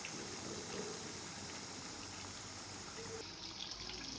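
Water poured from a container into a paella pan to cook the rice, a steady broadband rush and trickle lasting throughout, moderately faint and alone with no talk.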